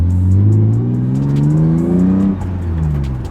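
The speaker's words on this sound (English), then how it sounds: "All this car has on it is the AFE axleback exhaust, and it sounds so good." A BMW E36 with an S52 engine and aFe axle-back exhaust revs up loudly with a deep, throaty exhaust roar, pitch climbing then dropping as it eases off, close and without talk.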